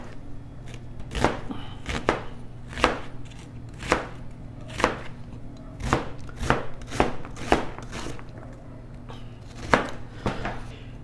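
Tomato, onion and chiles being cut into large chunks on a board for shakshuka. About a dozen crisp knife chops land in a steady, unhurried rhythm, close and clear, with no talking.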